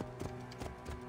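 Faint, rhythmic horse hoofbeats from Assassin's Creed Origins clip-clop over a low hum, a few quick steps in about a second.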